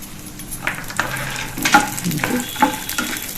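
Almonds roasting in ghee in a pan over low heat, with a soft steady sizzle and a few scrapes and stirs of a spoon against the pan, close and moderately loud, no voices.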